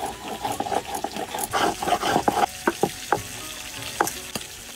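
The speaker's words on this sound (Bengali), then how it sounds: "আর এই বাকি মাছগুলো ভাজে নেই।" Fish frying in oil, a quieter uneven sizzle broken by irregular sharp pops and spatters, close by and fading to sparse crackles toward the end.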